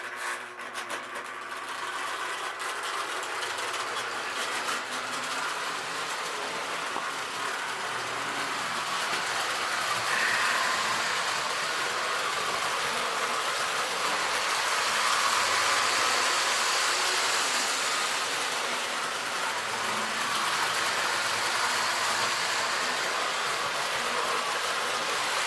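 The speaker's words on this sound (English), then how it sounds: "So this is my Alaskan Railroad train. So we'll run around a few times." A Lionel Alaskan Railroad model train set runs around its track with a continuous whirring motor hum and soft rolling rattle, fairly steady with gentle swells as it circles, no talk.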